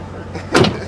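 One car door shuts with a single short thud midway through, standing out against a quiet idling background.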